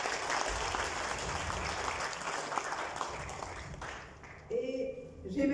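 Audience applause at the SKC Safer award ceremony in Mauritius, a dense, sustained round of clapping from the crowd that fades after about four seconds before a voice and music take over.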